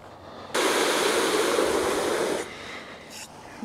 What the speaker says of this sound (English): I'm not gonna let you watch me wash the entire bike, just for a little while